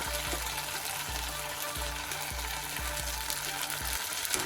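Grated fresh coconut fries with banana flower in a pan, a continuous sizzle broken by regular thuds and scrapes of stirring.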